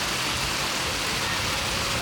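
Heavy rain pours during a Ganpati immersion procession, a dense, continuous hiss that fills the whole stretch at steady loudness.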